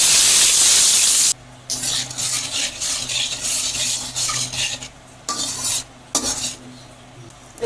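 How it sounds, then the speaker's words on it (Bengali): Cumin seeds tempered in oil left from frying eggs, opening with a loud hissing burst, then stirred in the pan with repeated scraping and clattering utensil strokes over a continuing sizzle. "ডিম ভাজার তেলে ফোড়ন দিলাম জিরা"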